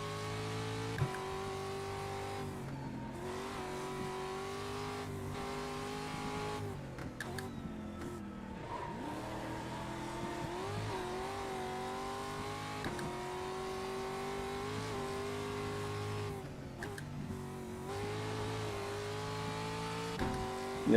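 Pro Lite racing truck lapping the Knock Hill road course, its engine droning loudly and continuously with rising and falling revs through gear changes and corners, close and alone without talk.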